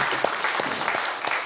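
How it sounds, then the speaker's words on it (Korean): Congregation clapping together during a Christmas church service, a dense, steady burst of applause filling the room for its full length with no talk over it. "영광의 박수 하나님께"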